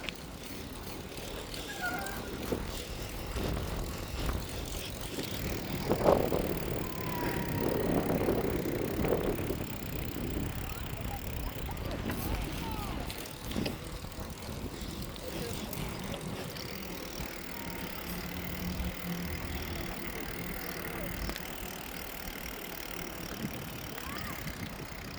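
A solo outdoor bicycle ride, with steady wind rushing over the microphone and road rumble throughout. It builds to a louder gust around the middle, then settles into a constant rolling whoosh.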